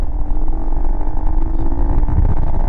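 A KTM RC 200 and a Duke 200 motorcycle speed along together, a loud continuous engine drone with road rumble and wind, steady throughout with no talk.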